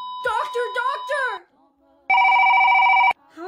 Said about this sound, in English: How is it ringing? It's not even plugged in.